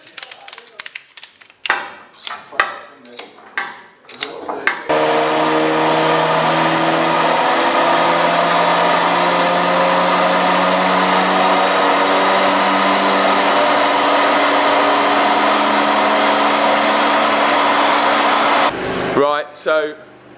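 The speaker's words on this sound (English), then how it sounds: "let's get out the Audi TT and let's see what power it is producing" An Audi TT MK2 with a Stage 1 remap revs on a dyno, a loud sustained engine roar holding steady for over ten seconds after some clicks and short sounds, then cutting off abruptly.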